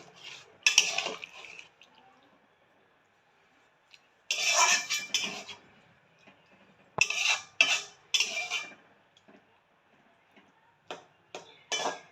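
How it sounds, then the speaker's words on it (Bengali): Ground mustard paste being stirred into a pabda fish curry with potato and brinjal: a utensil scrapes and clinks against the pot in several short bursts separated by quiet pauses, close and moderately loud. "সর্ষেটা দিয়ে ভালো করে আমি চারদিকটা মিশিয়ে নিলাম"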